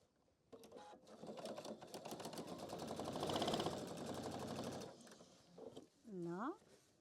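Domestic sewing machine stitching the inner pocket of a handbag organiser, a rapid mechanical whirr that speeds up, peaks mid-run and stops abruptly, followed by brief squeaky handling sounds.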